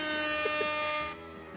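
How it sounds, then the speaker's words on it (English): Short electronic air horn blast from the Monster Prom video game, a sustained brassy tone held for about a second before dropping off into a quieter tail. "True, it is the air horn."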